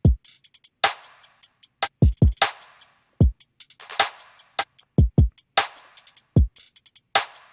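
A trap drum pattern programmed in FL Studio, stripped of overheads and 808 bass, plays as sharp kicks and snappy hits over rapid, evenly spaced hi-hat ticks in a tight repeating groove, with no voices.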